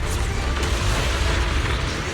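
Explosions rumble through a video game battle, a dense, continuous low roar of booms with no clear gaps, loud and close, with no talking over them.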